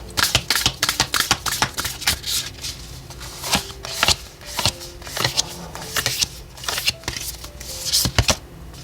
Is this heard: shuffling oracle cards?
yes